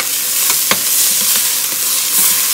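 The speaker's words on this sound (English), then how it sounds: "Just the bacon, leave the oil. Let's get this a stir here." Cooked bacon is stirred into vegetables in a pot for New England clam chowder, with a steady sizzle and several scraping strokes of the spoon at an uneven rhythm, close and clear.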